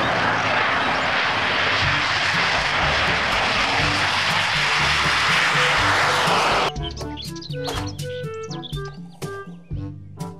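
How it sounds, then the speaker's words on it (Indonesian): A fighter jet's engine roars loud and steady with a broad rushing blast, then cuts off abruptly, giving way to chirping birdlike toy or cartoon sounds. "Pesawat jet tempur."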